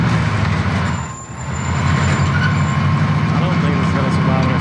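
Vehicle driven in the Warzone video game, a loud steady low engine rumble that runs continuously with a brief dip, under a voice talking.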